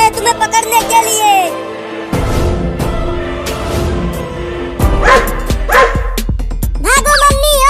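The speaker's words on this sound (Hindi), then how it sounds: "एक कुत्ता जा रहा है तुम्हें पकड़ने के लिए।" A dog in a children's cartoon barks repeatedly while chasing a cat, with busy voices, music and sound effects mixed in around the barking.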